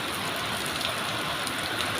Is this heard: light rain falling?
yes